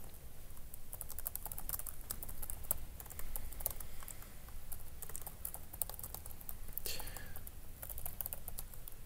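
Rapid, soft typing on a computer keyboard goes on throughout as a continuous patter of quiet key clicks, with faint talk underneath.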